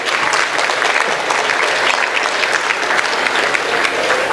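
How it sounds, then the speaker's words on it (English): A large crowd at a charity gala for AIM for Seva applauds loudly and continuously, a dense wash of clapping that fills the room. "Another round of applause for His Excellency Vikas Swarup."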